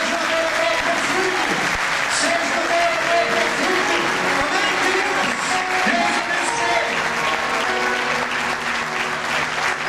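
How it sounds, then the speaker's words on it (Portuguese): Church congregation applauding during a family worship service, dense continuous clapping throughout, loud and close, with voices and cheering mixed in. "Dê um forte aplauso ao Senhor"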